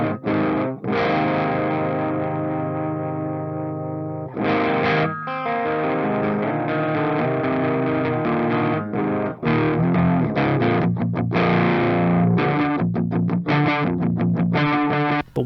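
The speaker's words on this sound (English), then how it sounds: "I typically don't like a fuzz sort of sounding distortion" Heavily distorted electric guitar through a Clairvoyant Amp Suite plugin, playing sustained chords and riffs, loud and continuous with brief pauses and choppy muted stabs near the end.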